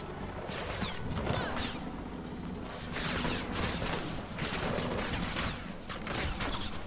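Dense, rapid gunfire pelts the player character in Mirror's Edge Catalyst, a loud, continuous barrage of overlapping shots and impacts that runs nearly unbroken for about seven seconds with no talking.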